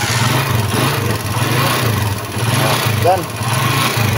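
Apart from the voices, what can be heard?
motorcycle engine starting and running after repair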